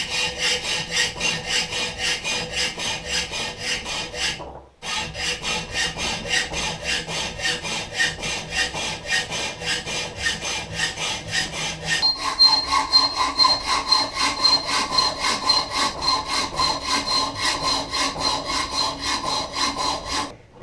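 A hand saw cuts through the metal arm of a BMW E31 840Ci manual gear shifter, with steady rapid back-and-forth strokes, close and loud, briefly pausing near five seconds and again at the end.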